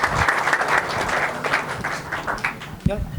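A room of attendees at a tech day event in a hotel breaks into loud, sustained applause, with voices and cheering mixed into the clapping throughout.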